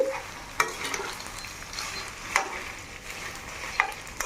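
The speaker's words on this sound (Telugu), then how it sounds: "చికెన్లో పచ్చంతా పోయి గట్టిగా ముక్క అయ్యేంత వరకు ఫ్రై చేసుకోవాలండి." Chicken pieces fry in oil in a pan for pickle, a continuous close sizzle broken by a few sharp scrapes and clanks as a spoon stirs them, with no talking.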